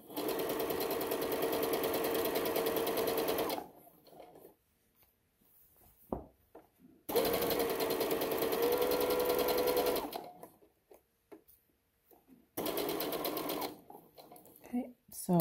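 A sewing machine stitches pajama shorts, running at a slowed pace in three long, steady bursts separated by quiet pauses with small handling clicks.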